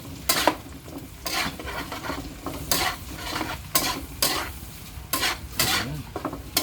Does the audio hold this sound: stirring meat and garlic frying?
yes